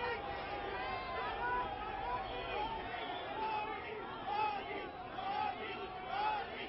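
A dense crowd of fans presses around Prime Minister Modi at Gandhi Smarak, a steady babble of many voices and shouts that swells and dips, heard faint and somewhat muffled.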